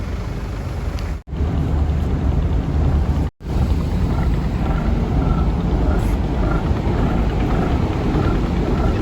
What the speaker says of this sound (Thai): อนนี้เราอยู่บนแพขนานยนต์นะครับแพขนานยนต์